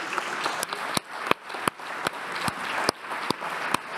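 Audience applause at a conference opening session, a steady patter of clapping with several sharp louder claps standing out, fairly close and moderately loud.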